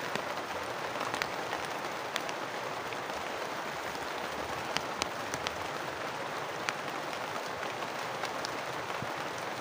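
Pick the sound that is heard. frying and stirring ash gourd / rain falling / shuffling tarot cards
rain falling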